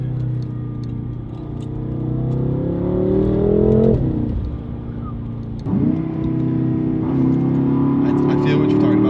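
A BMW F10 M5 V8 engine with an aftermarket exhaust and downpipe revs up and down, the exhaust note rising, dropping sharply, then climbing again, loud and close.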